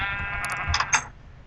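A video-game sheep bleats in a short, bright, wavering cry, loud and close, with a couple of quick pulses and no talk.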